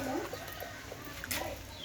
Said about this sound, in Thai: ไก่หนุ่มคัดผ่านตัวนี้